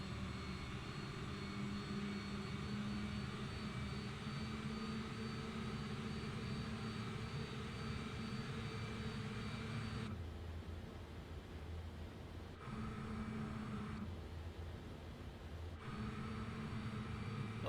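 Airliner jet engines idling and rumbling steadily during taxi in a flight simulator, a continuous loud broadband roar with a low hum that briefly drops away and returns a few times.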